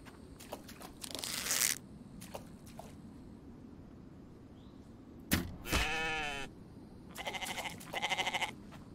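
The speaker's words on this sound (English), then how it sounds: "Oh, there's double goats." Goats bleating in the survival video game Infected, two distinct wavering bleats near the middle followed by another pair of raspy calls toward the end, with softer clicks and game noise in between and no talking.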